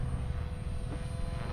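A Copter X Black Angel flybarless RC helicopter revs up, its steady loud rotor and motor drone filling the whole short stretch close by.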